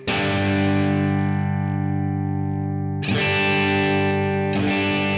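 Electric guitar played through distortion, with thick sustained chords ringing out loud and saturated, then two fresh strums cutting in near the end. No talking.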